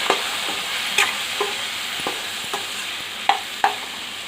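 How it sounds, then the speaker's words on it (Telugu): Eggplant curry pieces stirred in a hot pan, with a soft steady sizzle of frying beneath a few sharp spoon scrapes and knocks against the pan, heard alone at close range. "ముక్కలన్నిటినీ ఈ విధంగా కలుపుకుందామండి."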